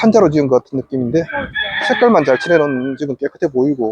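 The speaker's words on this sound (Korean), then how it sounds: "닭도 울고" A rooster crows in an undeveloped rural village on a dusty unpaved road of wooden plank houses in Antigua, the crow partly buried under someone talking close by.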